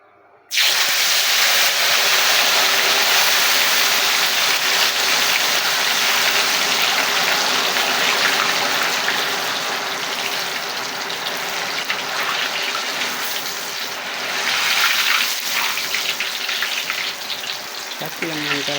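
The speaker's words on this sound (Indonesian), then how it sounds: "langsung kita goreng aja ini ya." Battered crispy tofu frying in hot oil, a loud, steady sizzle and hiss that runs continuously for the whole stretch, with slight swells in intensity and faint kitchen clatter underneath.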